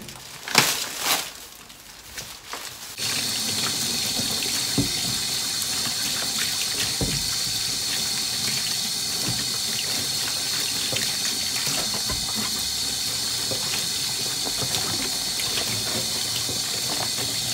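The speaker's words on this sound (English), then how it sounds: "So these, I'm gonna just wash them." A kitchen tap in Japan runs steadily as supermarket groceries are washed, a loud, close, continuous gush that starts after a few seconds of handling clatter and keeps going to the end.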